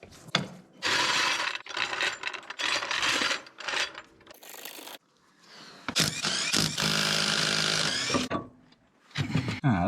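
Wheel nuts on a Mk1 Ford Escort ST170 being loosened with a ratcheting wrench: bursts of loud, close metallic clicking and grinding in several bouts, with brief pauses between and a harsher scraping stretch near the end.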